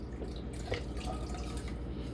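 Rennet is poured into still-swirling milk, giving soft liquid drips and a gentle trickle over a low, faint background, close by and brief.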